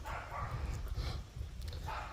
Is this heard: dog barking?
yes